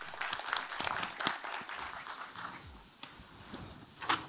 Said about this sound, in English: Let's give it a warm of applause just for Charles.